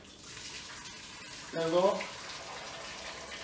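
Boiling water from a kettle is poured into a pot on a stove while making carbonara, a brief splashing pour of about half a second against faint background noise, with someone speaking nearby.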